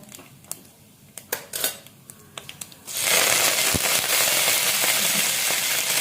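Cumin, mustard seeds and chana dal drop into hot oil for puri curry. A few sharp clinks of a utensil against a pan come first, then a sudden loud, steady sizzle takes over, heard close with no voices.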